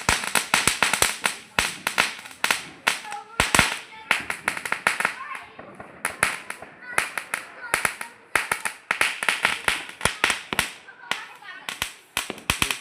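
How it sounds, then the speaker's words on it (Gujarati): Rapid sharp cracks and pops burst in irregular clusters, loud Diwali rocket fireworks launching and exploding repeatedly, with people talking in between. "જો કેવી મસ્ત રોકેટ આકાશમાં વહી ગઈ"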